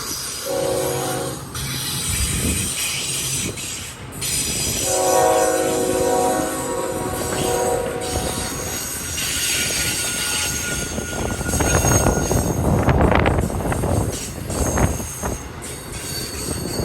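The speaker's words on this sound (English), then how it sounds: "Oh, that's a Union Pacific up there on the Palmdale cutoff." A Union Pacific freight train on the Palmdale cutoff rumbles past with loud horn blasts, squealing wheels and clattering cars, the roar swelling and shifting as it goes by.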